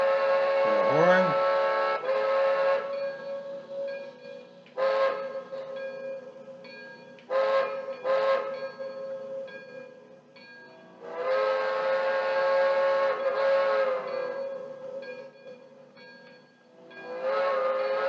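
Whistle sounds from a DCC sound decoder in an On30 2-6-0 model steam locomotive, several sustained chime blasts of varying length separated by short gaps, with a faint steady background hiss between them.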